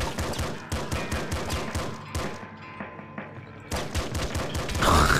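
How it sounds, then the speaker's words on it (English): Plasma gun fire in the Nuclear Throne video game, rapid repeated punchy blasts in quick bursts with a short lull, then another volley ending in a louder burst. "Plasma gun is so weak."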